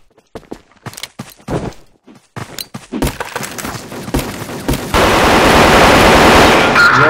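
Video game gunfire in a tunnel, first scattered single shots and bursts with sharp cracks, then a dense continuous barrage of automatic fire that stays loud to the end.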